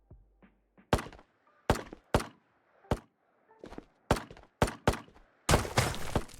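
Gunshots from bots in the video game Ghosts of Tabor ring out as about a dozen sharp, loud cracks at irregular intervals, ending in a quick burst, with faint movement sounds between them.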